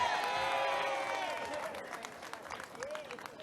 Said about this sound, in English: let's applaud Jamie Giellis and her team tonight for running a great campaign